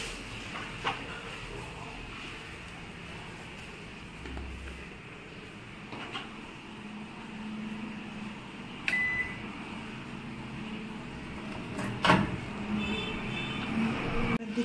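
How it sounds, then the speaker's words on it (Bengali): Steady hum of a microwave convection oven set to 180 degrees for baking homemade cupcakes, running low and continuous with a few faint clicks and short beep-like tones. "এখন ঢুকাবো মাইক্রোওভেনে"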